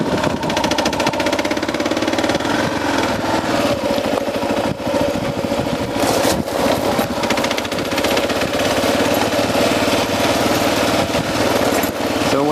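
A KLR 650 dual-sport motorcycle rides a rocky, sandy trail in the Organ Mountains, its single-cylinder engine droning loud and steady and close throughout, with rattling and knocking from the rough ground.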